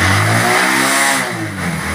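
Hero Honda CD Deluxe 2011 motorcycle engine revving steadily up close, a loud continuous drone with a dip in pitch midway before rising again, no voices.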